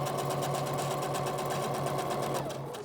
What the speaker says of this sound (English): I'm going to backstitch over that just to secure it a little better.